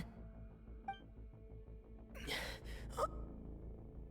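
A Genshin Impact character gasps sharply for breath, a couple of breathy gasps over a soft game music background with a faint clink.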